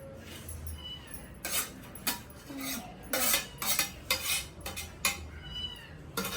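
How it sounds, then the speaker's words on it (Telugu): Chicken biryani being mixed in a pot for a birthday meal, with close, irregular scraping and clinking of a utensil against the vessel in short bursts. "ఇప్పుడు బిర్యానీ కలుపుతున్నా"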